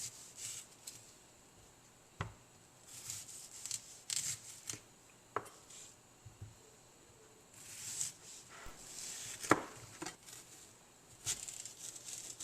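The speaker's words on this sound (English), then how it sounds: "So I'm going to cut up the onion first." A knife chopping a sweet onion on a cutting board, irregular sharp taps close by, some in quick bursts with pauses between, under a faint background hum.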